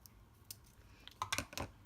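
Scissors snip through craft material at a home crafting table, a short run of crisp close clicks and cuts bunched toward the end, fairly quiet with no talking.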